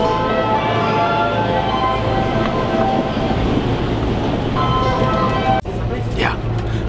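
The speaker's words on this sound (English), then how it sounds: "show you guys what it's like getting on the train" Packed commuter train in Akihabara, Japan, a steady rumbling ride with rail hum and clatter, a sharp clunk near the end, and people talking over it.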